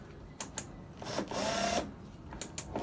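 An adjustable torque wrench works a part loose on a Samsung top-load washer, giving short whirring and ratcheting bursts with a sustained buzz in the middle, close and fairly quiet.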